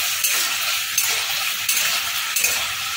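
Jackfruit curry (chilli echor with fried raw jackfruit pakoras) bubbling in a pan, a steady broadband sizzle and simmer with a few louder pops and stirring clinks, close and continuous.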